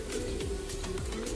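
Pigeons coo softly inside a loft, a faint, low, rolling murmur of repeated calls, steady and quiet with no talking.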